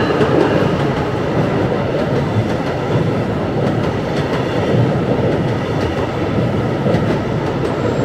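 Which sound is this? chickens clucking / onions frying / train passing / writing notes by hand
train passing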